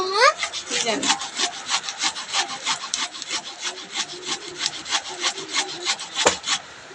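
Rhythmic chopping strokes of a knife cutting vegetables on a board, close and steady, repeating many times in a brisk even pattern with a sharper knock near the end.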